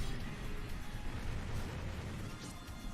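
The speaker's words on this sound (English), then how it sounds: "Explosions!" Explosions in the video game Super Smash Bros. Brawl during a fast auto-scrolling stage, a dense, roaring burst of blasts and crashes that stays loud and steady without any speech.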